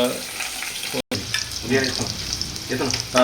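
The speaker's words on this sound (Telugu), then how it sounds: "ఆయిల్ సరిపడా పచ్చిమిర్చి వేయాలి, అండ్ నెక్స్ట్ ఆనియన్స్, దానికి సరిపడా ఆనియన్స్ వేయాలి" Green chillies and onions frying in oil, heard as a steady crackling sizzle broken by a momentary dropout, with faint stirring movement throughout.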